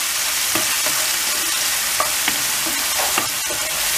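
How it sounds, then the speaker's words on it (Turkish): Saç kavurma meat and tomatoes sizzle in a pan while being stirred, a constant close frying hiss broken by several scraping clinks of the utensil against the pan, with no voices. "Bunu güzel karıştırıyoruz."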